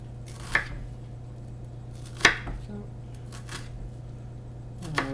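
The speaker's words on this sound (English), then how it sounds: "you can just cut your onion" Knife slicing an onion on a cutting board, a few sparse sharp taps and cuts close by, with a person talking over them.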